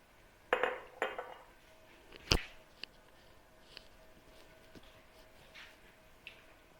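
Spoon stirring lasagna sauce in a pot, giving a few close metallic clinks and scrapes at the start, then quieter sparse taps against the pot.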